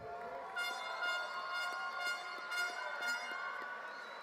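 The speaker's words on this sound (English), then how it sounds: "is that your family with the air horn?" Air horn blown by a family in the audience at a high school graduation, several loud sustained blasts pulsing repeatedly in a large hall, standing out over background murmur.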